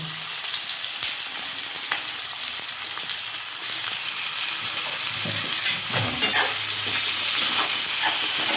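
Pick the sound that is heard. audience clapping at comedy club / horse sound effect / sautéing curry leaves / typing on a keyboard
sautéing curry leaves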